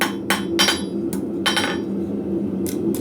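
Light hammer blows ring on an anvil while a leather scribe is forged: about six sharp, bright metallic strikes in an uneven rhythm, close and clear over a low background hum.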